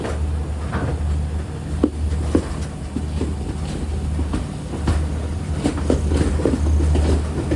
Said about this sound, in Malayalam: 11:05 ട്രെയിൻ ഇതാ പൊൽഗവേല റെയിൽവേ സ്റ്റേഷനിലേക്ക് എത്തിയിരിക്കുകയാണ്.